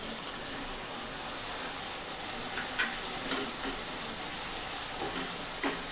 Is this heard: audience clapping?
no